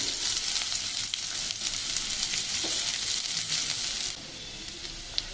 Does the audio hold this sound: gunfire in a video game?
no